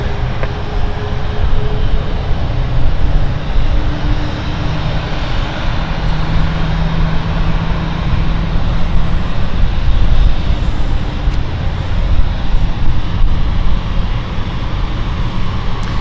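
A jet airliner on the Glasgow flight roars down runway 27 at London City Airport, a loud, sustained rumbling engine thrust holding steady throughout as the aircraft departs.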